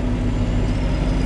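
Deep, loud rumble of a truck engine idling close by at the curb, a steady low throb with no voices.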